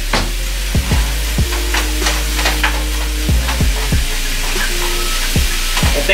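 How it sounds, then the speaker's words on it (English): Ground beef sizzles steadily in a frying pan for spaghetti sauce, with a steady frying hiss broken by sharp scrapes and knocks of a utensil stirring it every second or so, close and fairly loud with no talking. "And now we just cook the beef. Cook it all the way through."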